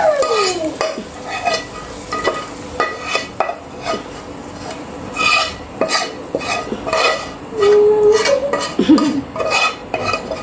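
A curry being tempered in a pan, with repeated scraping stir strokes and bursts of sizzling, plus occasional clinks of utensil against the pot, close and fairly loud throughout.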